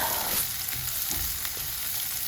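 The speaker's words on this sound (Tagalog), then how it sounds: "Tapos, igisa ang sibuyas." Onions sauté in hot cooking oil, giving a steady, close crackling sizzle with brief stirring scrapes on top.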